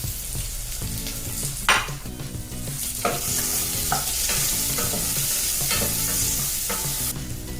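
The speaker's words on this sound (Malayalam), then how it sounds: "വെളിച്ചെണ്ണ ചൂടായി വരുമ്പം വെളുത്തുള്ളിയും ചെറിയുള്ളിയും മഞ്ഞളും ചേർത്ത് വഴറ്റിയെടുക്കാം" Garlic, shallots and turmeric sauté in hot coconut oil with a steady, close sizzle, punctuated every second or so by the scrape and clack of a stirring spoon against the pan. No voices.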